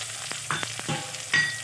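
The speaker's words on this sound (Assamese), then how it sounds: "এতিয়া মই দিম এয়া 2টা ডাঙৰ ডাঙৰকৈ কাটি লোৱা পিঁয়াজ।" Two large onions, coarsely chopped, hit hot oil for a fish chilli: a short burst of loud, close sizzling with a few sharp clatters and crackles from the pan.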